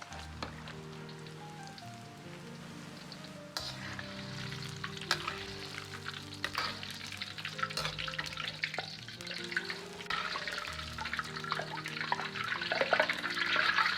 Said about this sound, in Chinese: 保持中小火炸至3分钟左右，把姜葱都炸至漂浮在油面